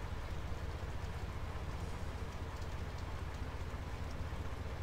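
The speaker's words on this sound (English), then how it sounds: "Oh, that rain. Isn't that just lush?" Steady, dense rain hiss from Farming Simulator 17 with the Seasons mod, a continuous wash of falling drops with a low rumble underneath, even in level throughout and free of any voices.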